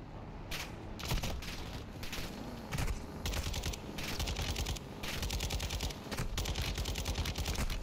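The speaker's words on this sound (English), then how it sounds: "LMG ahead!" Light machine gun fire rattles in rapid repeated bursts during a Call of Duty: Modern Warfare II battle, loud and close, with sharp cracks layered over a dense combat din.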